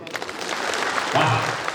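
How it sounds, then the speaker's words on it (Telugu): A school annual day audience claps together in a hall at the chief guest's request, a dense, steady burst of applause lasting the whole moment with no talk over it. "ఒకసారి చప్పట్లు కొట్టండి."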